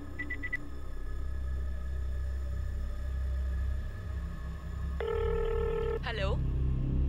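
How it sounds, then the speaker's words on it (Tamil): Short electronic keypad tones followed by a steady telephone ring tone and then a chirping electronic signal, over a constant low rumble, in a scene from an Indian film where a phone number is dialled. "ஒரு ஃபோன் நம்பர் டயல் பண்ணுறீங்களா?"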